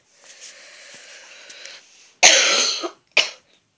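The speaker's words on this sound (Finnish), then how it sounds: "mulla on nyt vähän yskä" Several sharp, loud coughs from one person, a long harsh burst followed by a shorter one, after a stretch of quiet background noise.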